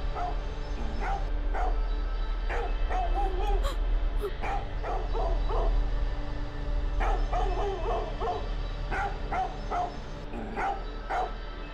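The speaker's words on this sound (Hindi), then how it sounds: "आज ये टेसी बहुत भौंक रहा है" A pet dog named Tessy barks repeatedly in short bursts through the morning at home, moderately loud over a steady low background hum.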